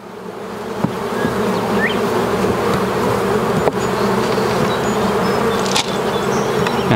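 A dense, loud swarm of honey bees drones continuously at an open hive during a colony split, close up, with a few faint knocks from frames being handled.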